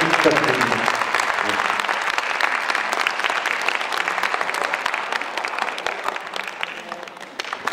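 Sustained audience applause fills a concert hall after a classical guitar performance, dense and steady throughout with a slight fade toward the end.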